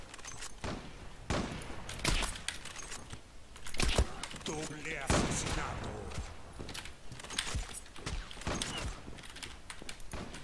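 Gunfire in the online shooter Zula comes as a run of sharp, irregular shots, some loud and close and others fainter, mixed with clattering game sounds while someone talks over it.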